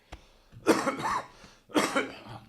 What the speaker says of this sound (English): I'm going to cut that cough out